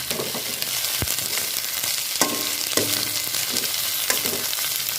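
Carrot and green chillies sautéing in a pan give off a steady close sizzle, with a few sharp spoon-against-pan clinks from stirring now and then.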